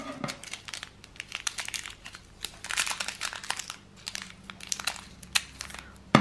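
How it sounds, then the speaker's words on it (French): A small plastic packet of diamond painting beads is tugged and crinkled open, giving close, continuous rustling and crackling with sharp crinkly bursts throughout. "Oh, c'est dur à ouvrir."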